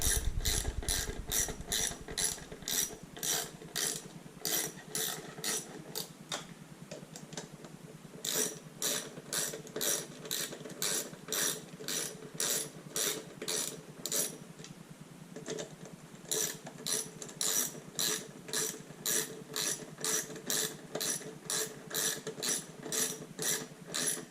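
Bolts on a carbon fiber quick-turn gas cap of a 2020 BMW S1000RR are snugged with a ratchet, producing close, rapid clicking bursts repeated in runs with brief pauses.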